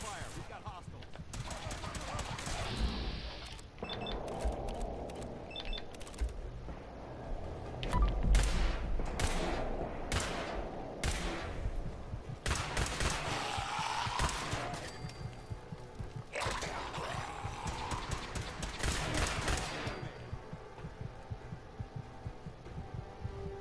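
Rapid gunfire crackles in the game Fallout 4 during a fight with hostiles, repeated sharp bursts and volleys spread through a long stretch, with voices talking between and over the shots.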